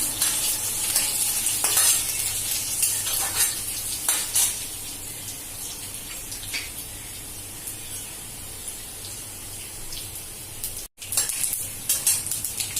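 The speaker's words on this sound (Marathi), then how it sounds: "त्याचं थोडे आपण लसूण टाकतोय, बारीक केलेला लसूण आहे, बारीक चिरून घेतलाय।" Finely chopped garlic fries in hot tempering oil, a continuous bright sizzle with crackling spurts near the start that settles to a quieter, steady hiss.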